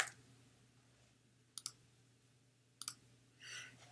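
Sharp computer keyboard and mouse clicks come in two short bursts over a quiet room hum, ending with a softer brushing rustle.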